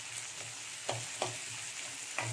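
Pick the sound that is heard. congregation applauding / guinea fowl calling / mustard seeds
mustard seeds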